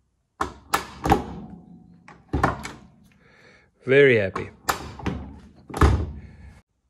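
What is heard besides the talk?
Porsche 924 car door closing after new door handle installed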